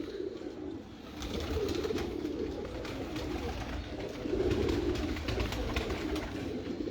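A pigeon coos softly in low, throaty bursts against a steady background murmur.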